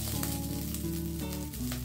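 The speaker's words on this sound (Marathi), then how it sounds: "सगळ्यात शेवटी इथे 20 ते 25 टाकळ्या लसणांची आणि अगदी थोडीशी कोथिंबीर भाजून घेऊ." Garlic cloves, about twenty, and a little coriander roasting in a pan over low heat, giving a steady close sizzle and crackle that runs unbroken with no talking.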